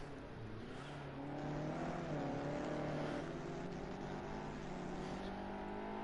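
Video game race car at Circuit of the Americas, its engine droning at steady high revs down the back straight, the pitch rising slowly and then holding with a steady nearby roar.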